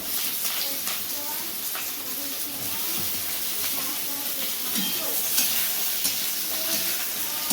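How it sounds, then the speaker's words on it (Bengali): Eggplant pieces fry in oil with a steady, soft sizzle and hiss throughout, accompanied by occasional light stirring clicks, fairly quiet and close with no talking. "এবার বেগুনগুলোকে ভেজে নেওয়া হচ্ছে"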